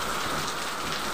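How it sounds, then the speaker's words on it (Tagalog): Light rain falls steadily and closely, a constant even wash of patter with no break and no voices. "Kaso umuulan."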